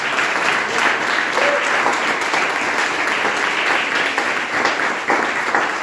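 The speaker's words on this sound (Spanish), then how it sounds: "Denle un aplauso a Jesús esta mañana." A church congregation applauds together, a steady, dense wash of clapping that stays loud and even from start to finish with no voices breaking through.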